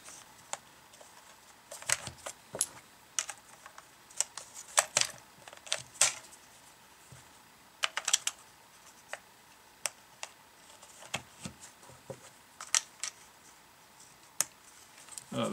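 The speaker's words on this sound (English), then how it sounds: "There you have the AR-15 magazine loaded up." Rounds being pressed into a plastic AR-15 magazine with a Lula speed loader, giving a steady run of sharp, close clicks and snaps at an uneven rhythm over a quiet background.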